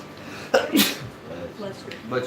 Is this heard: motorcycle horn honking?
no